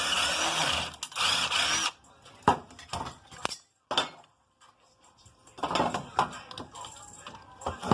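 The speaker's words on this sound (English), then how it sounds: "Gotta love an impact driver, y'all." Cordless impact driver removing fasteners from aluminum scrap in a shop, heard as several short bursts of rattling hammering spread through the stretch, with metallic clanks and handling clatter between them and some loud noise at the start.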